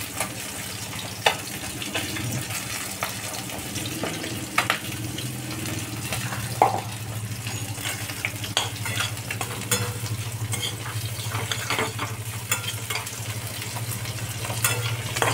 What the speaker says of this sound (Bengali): আঁচ কমিয়ে কিন্তু আমি কষছি